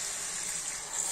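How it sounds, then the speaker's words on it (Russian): Water runs in a steady hissing stream, poured into a cooking pot at an outdoor grill spot, faint and continuous with no talk. "сейчас немножко воды еще добавит"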